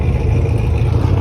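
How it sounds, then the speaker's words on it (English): Truck engine with a choppy, lumpy idle at a Buc-ee's gas station car meet during TX2K24, loud and close with a steady low rumble. "Got a chopping ass truck over here."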